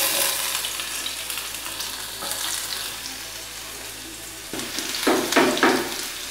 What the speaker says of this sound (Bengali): এবার আমি বাকি তেলটায় আদা আর রসুনের কুচোগুলো দিয়ে দেব।